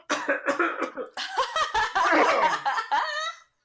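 Several harsh, phlegmy coughs in quick succession at close range, with a strained throat-clearing rasp toward the end.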